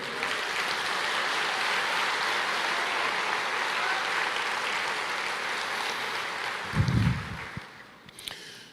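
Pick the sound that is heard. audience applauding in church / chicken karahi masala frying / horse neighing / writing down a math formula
audience applauding in church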